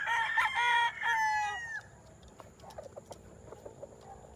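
A rooster crows loudly and close by, then the call fades into softer scattered clucks and rustling from chickens nearby.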